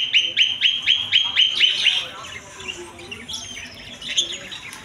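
Birds call at a bird and pigeon market in Pabna, with a rapid run of bright repeated chirps up front, then scattered squawks and tweets nearby.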